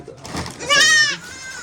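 A single goat bleats once with a short, wavering cry at close range, preceded and followed by quiet room sound.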